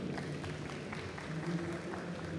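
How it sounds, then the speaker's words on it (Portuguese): An audience at a startup panel session applauds, the clapping dense but fairly faint and distant, keeping up steadily across the moment. "Uma salva de palmas."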